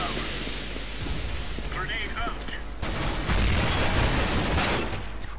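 Video-game gunfire from a Mac 10 in Overwatch crackles in quick bursts, building into a denser volley midway, while a voice talks over the mix.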